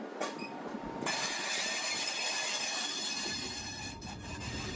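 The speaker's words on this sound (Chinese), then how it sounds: "这边正好有火车经过，被拦住了，很惊喜啊！" A freight train rolls past a level crossing in Yangpu, urban Shanghai, a steady close rumble and metallic clatter of wagons with a brief wheel squeal, continuous throughout with no talking.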